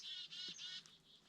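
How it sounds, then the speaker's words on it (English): Small birds in a northern British Columbia forest give a few quick, high chirps and twitters close by in a short burst, with no talk. "There's tons of little birds in here"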